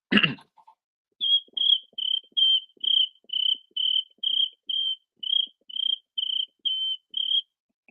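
A person imitates a cricket with their voice, giving about a dozen evenly spaced high, thin chirps in a steady rhythm after a brief breath, alone and close up.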